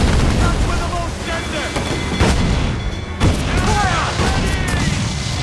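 Cannon fire during a pirate ship battle at sea in a video game, heavy booms bursting over a constant wash of wind and water, with a voice calling out amid the action.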